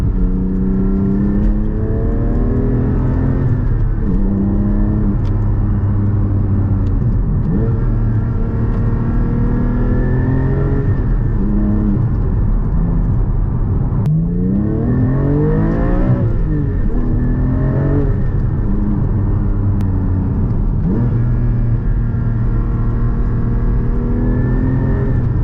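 Porsche 718 Cayman GT4 with a manual gearbox, its engine droning loud from inside the car, revs rising and falling as the driver drops from sixth down to second, with throttle blips between gears.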